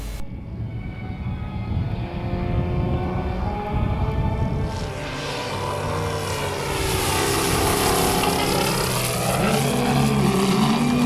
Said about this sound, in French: démarrer le moteur de l'extra